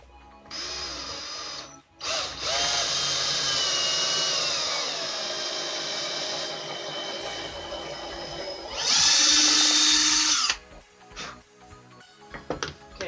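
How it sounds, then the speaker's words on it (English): A power drill bores a hole through thin wood on a clamped tripod phone holder, its high whine running steady for about eight seconds before a sharper burst near the end, then stopping, with light handling noises after. "so now the hole is drilled"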